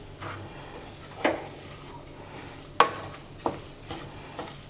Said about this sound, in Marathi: 1 मिनिट आपण पीठ भाजून घ्यायचं